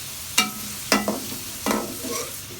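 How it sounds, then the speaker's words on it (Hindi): Sliced onion goes into hot oil in a kadai, giving short bursts of sizzle as it is stirred, about four quick scrapes over a low frying hiss. "ये प्याज अब हम इसमें शामिल कर देते हैं।"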